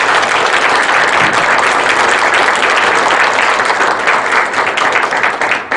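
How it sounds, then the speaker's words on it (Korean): A large audience at a public humanities lecture gives sustained, dense applause that stays loud and even throughout before easing slightly at the end. "오늘 아주 부드럽고 편한 강의를 해주신 우리 조 교수님께 다시 한번 뜨거운 박수 부탁드립니다"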